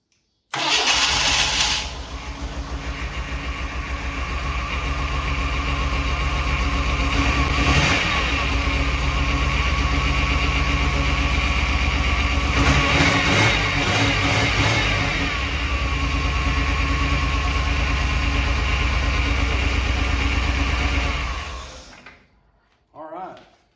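A 1964 International Scout 80 with a 4.3 engine cranks, fires up and settles into a steady, loud idle with a few revs, with voices briefly audible over the running engine.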